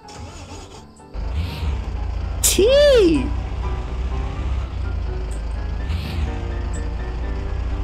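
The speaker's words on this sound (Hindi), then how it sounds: "सही में बस का इंजन लगा पड़ा इसमें, कितनी गंदी साउंड कर रही है ये" A car engine at an Indian dealership idles with a coarse, bus-like rumble, starting abruptly and droning steadily nearby while a high whistling tone rises and falls and a man exclaims.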